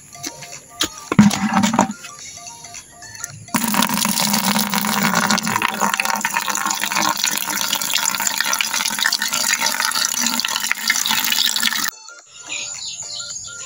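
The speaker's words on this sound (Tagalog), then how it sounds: "Tapos lalagyan po natin ng tubig." Water poured from a tap or container into a bucket holding calcium nitrate fertilizer being mixed with about 16 liters of water, a steady rushing fill lasting several seconds after brief handling noises, then stopping.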